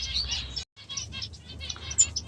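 Finches in an aviary chirp in a busy, overlapping chorus of quick, high tweets. The calls sound fairly close and continue almost without a break, apart from one brief gap.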